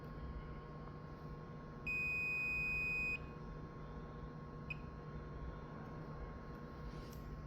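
During a diode check on parts from a Miller inverter with output problems, a multimeter gives one steady, clear high beep lasting about a second, then a tiny blip later over a quiet, humming room.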